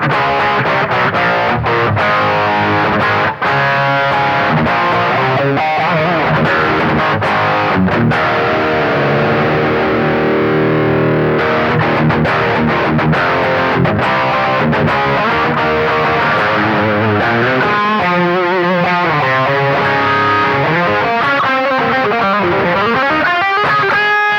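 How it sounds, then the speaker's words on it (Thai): A heavily distorted electric guitar rhythm tone through a BOSS ME-25 multi-effects unit plays a steady part, loud and continuous throughout, with thick sustained chords and no voices. "นี่เสียงริทึม"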